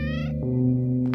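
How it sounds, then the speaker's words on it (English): A cat in the video game OneShot gives a single drawn-out meow that slides downward in pitch, loud and close, with a brief soft sound at the very end. "Cats? Actual cats."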